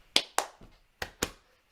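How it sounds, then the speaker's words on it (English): Five sharp, close percussive hits of clapping or tapping on the knees or chest in a Juba dance rhythm, uneven in spacing and loudness, with clear gaps and no talk. "It can be either clapping or tapping the knees or the chest"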